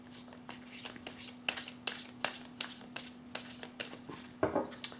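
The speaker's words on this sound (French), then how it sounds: "Je vais tirer encore quelques cartes pour en savoir un peu plus par rapport à ça." Tarot cards are drawn and handled from a deck, giving a steady run of soft, close card snaps and slides about every half second over a low, constant hum, with no voices.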